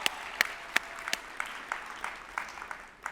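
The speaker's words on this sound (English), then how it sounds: "Yes, give yourself applause." Scattered applause at a church general conference plenary session, sparse distinct claps at first that thin into lighter, irregular clapping, fairly close and with no talk over it.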